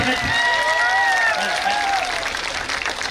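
Crowd applause at a live Haryana election rally in Gohana, steady and loud throughout, with a voice and tonal sounds carrying over the clapping.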